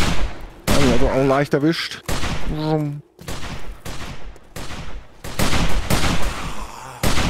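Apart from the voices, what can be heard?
gunfire from the video game 7 Days to Die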